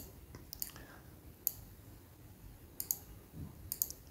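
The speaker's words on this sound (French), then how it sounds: "Je clique sur n'importe quelle cellule dans H2, clic droit." Computer mouse clicks while working in an Excel spreadsheet: a handful of sharp, close, quiet clicks spaced irregularly over a soft background hiss, with no talking.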